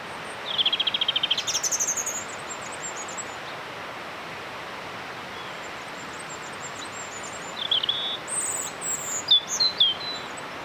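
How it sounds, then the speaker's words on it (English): A robin sings in Irish countryside, bursts of high, thin warbling phrases near the start and again toward the end, fairly close but quiet over a soft steady background hiss. "the robin kept singing and allowed me to get some good footage"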